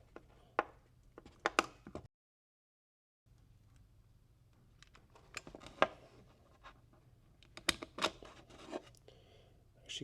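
Snipping and cutting into a Nissan Xterra/Frontier key fob casing: a run of sharp clicks and crisp cuts close by, a brief silent gap, then more irregular snips and scraping.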